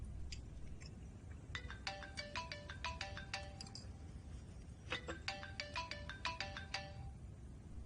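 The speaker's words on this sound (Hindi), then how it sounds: "उठा लो फोन।" A phone ringtone plays as a repeating electronic melody, two bursts of bright chiming notes with a brief pause between them, moderately loud with no talking over it.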